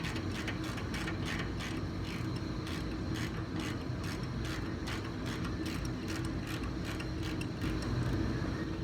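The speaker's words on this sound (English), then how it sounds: "So we're going to take off these 2 Allen bolts." Allen bolts being loosened and removed from a brake caliper on an S-10, giving continuous clicking, ratcheting and rattling mechanical noise with no talk.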